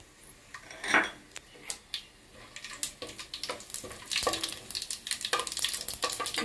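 Cardamom, cloves, cinnamon and shahjeera dropped into a pot for Rayalaseema-style bagara rice, giving close, scattered clinks and light sizzling that grow busier toward the end, with no talk.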